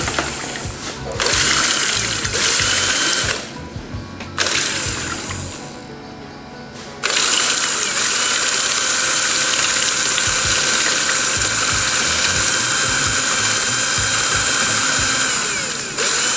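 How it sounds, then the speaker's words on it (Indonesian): Handheld electric drill used as a mixer to stir a thick, soap-like organic pesticide cooked with KOH: a loud, sustained motor whine with a brief pause and speed drops midway before running steadily again. "Kita menggunakan bor karena pakai alat seadanya."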